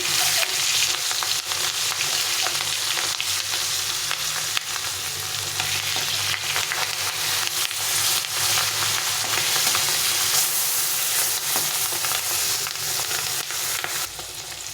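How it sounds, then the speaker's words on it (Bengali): Roe-filled bata fish frying in hot oil in a pan, a steady, loud, close sizzle and crackle running unbroken throughout with no talk. "মাছটা এক পাশে ভাজা হয়ে গেছে এটাকে উল্টে পাল্টে ভেজে নিতে হবে"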